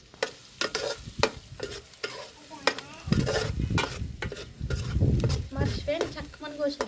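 Onions being stirred in hot oil in a pan, with a steady sizzle under repeated scraping and clinking of the spoon, loud and close, while people talk over it.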